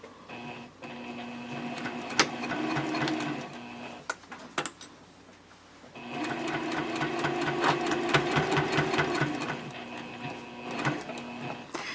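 A sewing machine stitching a quarter inch from the edge of a quilted journal cover at stitch length 3.0, two runs of rapid mechanical whirring and ticking separated by a short pause with a couple of clicks, close and steady.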